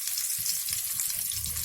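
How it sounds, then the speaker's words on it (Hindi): Mixed vegetables, including flat beans, fry together in a pan, giving a steady close sizzle with soft low bubbling underneath and no voices. "ये सारे वेजिटेबल्स फ्राई होने के लिए ज़्यादा टाइम नहीं लेते हैं, इसीलिए मैं ये सभी को एक साथ फ्राई कर लूँगी"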